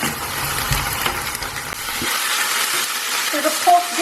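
Minced pork frying and being stirred in a pan for a Thai glass noodle salad produces a continuous close sizzle, with scraping stirring strokes and a few louder clatters throughout.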